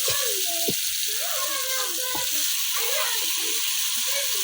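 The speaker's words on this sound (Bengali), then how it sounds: "এখন দিয়ে দেব আমি মাছের মাথা।" Fish heads go into sizzling spice masala in a wok, giving a steady broadband frying hiss that stays loud and even throughout, with some talk-like tones underneath.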